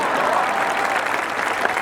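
An audience at a Hindi comic poetry gathering in Rajnandgaon claps loudly and densely for a couple of seconds, a brief, continuous burst of applause.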